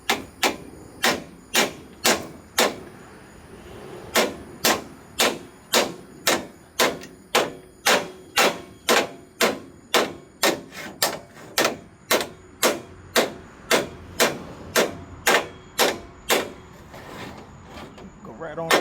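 Sharp metallic hammer blows on bent trailer metal strike in a steady, regular rhythm, about two per second, ringing close and loud, with a brief pause partway through.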